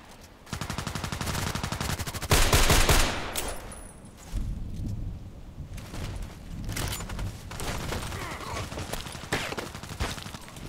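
Sniper rifle fire in an online shooter game, a rapid series of sharp close shots and bursts that repeat across the span, with a louder cluster early on and scattered shots later, faint voices underneath.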